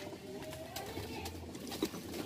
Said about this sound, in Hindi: लॉफ्ट के अंदर आ चुके हैं, जोड़े वाले कबूतर हैं भैया के